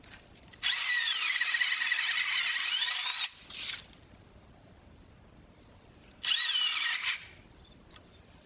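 Cordless drill boring a mortise in wood: two bursts of high-pitched whining drilling, a long run of about three seconds and a shorter one, separated by a quiet pause with a brief knock between, close and loud.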